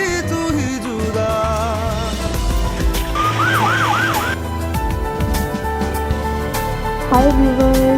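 Ambulance siren wailing in a drama scene, its rising and falling tone sweeping through a busy soundtrack of music, fairly loud and steady across the whole stretch.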